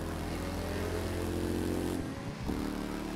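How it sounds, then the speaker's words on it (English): A motorcycle engine in the video game The Crew 2 drones steadily with a low rumbling tone, briefly dipping in pitch and loudness before settling back into a constant hum. "I can hear your bike like really well on my headphones"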